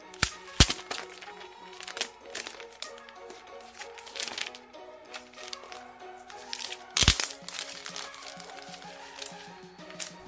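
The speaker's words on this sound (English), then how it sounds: "Now we'll go ahead and open up the Pixel C keyboard." Packaging for a Pixel C keyboard being opened, a close run of crinkling, rustling and scraping cardboard and plastic, with two sharp loud cracks standing out amid the irregular handling noise.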